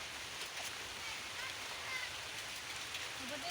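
Rain falls steadily over an open field of green crops, a soft, even broadband patter that stays constant throughout with no talking.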